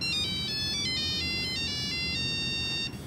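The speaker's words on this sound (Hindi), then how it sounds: "ओए बानो का फोन" A phone ringtone plays a bright, repeating electronic melody of stacked tones, loud and continuous for about three seconds in a scene from a 2015 Pakistani film, with no talking over it.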